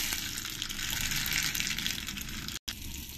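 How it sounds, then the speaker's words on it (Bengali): Radhuni spice seeds dropped into hot oil give off a loud, dense, steady hiss of sizzling, close up, cut by a brief dropout near the end before the crackle resumes. "তেলটা গরম হয়ে গেছে। এবার আমি এর মধ্যে 1 চামচ রাঁধুনি দিয়ে দেবো"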